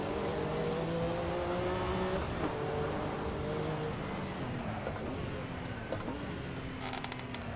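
Several race cars in the Assetto Corsa sim pull away from pit lane in a Group C race with a Porsche 962C and a Mazda, engines droning and shifting pitch together in a steady, dense roar with no talk.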